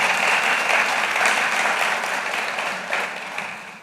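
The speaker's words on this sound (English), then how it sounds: "No one has ever applauded me for working there." Audience applauding at an evening talk event with artist Howardena Pindell, dense sustained clapping from a full room that slowly tapers off.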